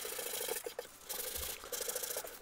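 Sandpaper rubs by hand across a wooden piece after wood glue fills its imperfections, giving rhythmic, close scratchy strokes with short pauses between passes and no voices.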